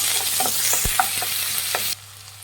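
Chopped onions frying and being stirred in hot oil for a raw banana kabab manchurian, a steady close sizzle with scraping stirs and light clinks, cutting off abruptly near the end.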